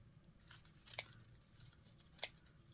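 Two sharp scissor snips cutting material on a Dollar Tree scarecrow, quiet and close, spaced about a second apart over a faint room hum.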